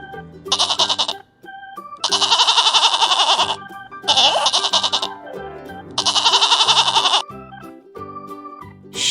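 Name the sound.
goat bleating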